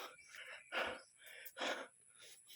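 Heavy, rhythmic panting close to the mic, harsh breathy gasps in and out repeated several times, fairly quiet overall.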